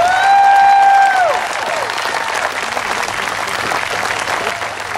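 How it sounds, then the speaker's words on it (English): A crowd at a Scott Walker event applauds veterans, loud massed clapping that swells to a steady roar, with a tonal whistle or cheer gliding down near the start over the clapping. "Let's give all veterans a big round of applause."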